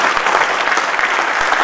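An audience at a Hindi kavi sammelan applauds loudly to welcome a poet to the stage, a steady, dense wash of many hands clapping without pause.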